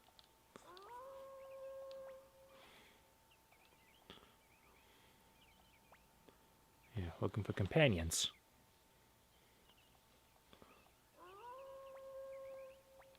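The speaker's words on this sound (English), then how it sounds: "See, at least he sounds like a correct wolf." Wolf howls in Suikoden II, rising tonal calls that sweep upward and hold, one near the start and another near the end, with a loud noisy burst in between and a person talking quietly.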